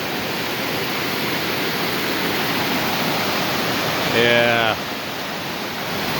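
Swamp Falls, a waterfall on Bear Creek in an Arkansas Ozarks canyon, roars as a steady, loud broadband rush throughout, with a man's brief spoken word partway through.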